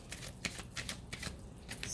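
Tarot cards being shuffled in a quick run of soft riffling bursts, fairly close, with a faint voice murmuring in the background.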